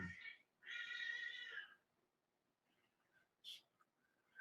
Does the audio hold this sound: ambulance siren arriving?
no